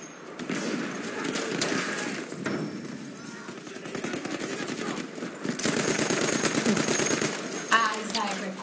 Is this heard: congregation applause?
no